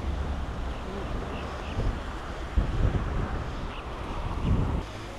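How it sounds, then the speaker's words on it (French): Steady wind rumbles and buffets close to the microphone in uneven gusts at an old rum distillery in Martinique, with no clear talking. "Il y a du vent, hein."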